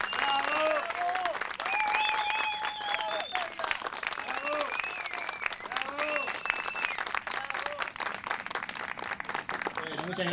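Audience applause fills the background at a summer show while a voice talks over it with melodic, sung-sounding inflections; the clapping runs continuously as a dense patter beneath.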